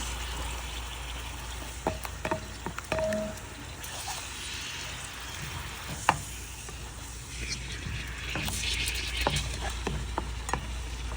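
Hilsa fish pieces frying in spiced oil in a pot for pulao, a continuous sizzle broken by spatula knocks and scrapes against the pot, close and moderately loud.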